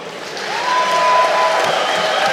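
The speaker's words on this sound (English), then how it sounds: "Give them a round of applause." A crowd at an armored combat fight exhibition applauds, a dense wash of clapping that swells and holds, with a whistle or cheer rising over it.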